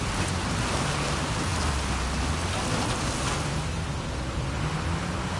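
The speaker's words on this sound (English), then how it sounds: "A secret cave behind a waterfall." Waterfall in Uncharted 4 video game, a dense continuous roar of rushing water, steady and enveloping without breaks.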